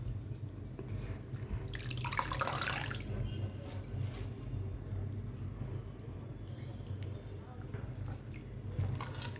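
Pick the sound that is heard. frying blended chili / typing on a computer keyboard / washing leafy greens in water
washing leafy greens in water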